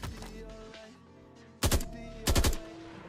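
Two sharp, loud gunshot bursts in a Vietnam War first-person shooter game in development, each a quick double crack separated by about a second, over a low ambient hum.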